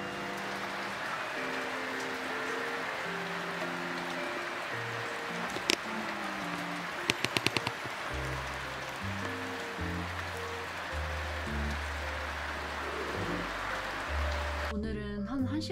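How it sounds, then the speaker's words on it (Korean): Rain falls steadily outside a mountain lodge in the Himalayas, a continuous near hiss of drops, with some intermittent tonal sounds and a brief clatter partway through. "롯지 밖에 비가 오네요."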